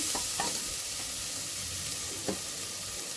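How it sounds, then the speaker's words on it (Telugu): Half a teaspoon of ginger garlic paste fries in a pan as it is cooked for pongal. A steady close sizzle fills the clip, with a few light stirring clicks and no talking. "ఇప్పుడు ఒక హాఫ్ టీ స్పూన్ అల్లం వెల్లుల్లి పేస్ట్ ఇది బాగా వేపుకోవాలండి"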